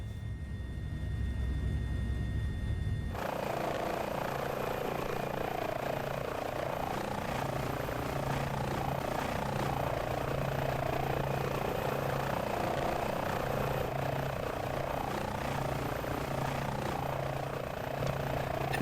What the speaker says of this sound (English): we're going to take off from Hewlett Municipal Airport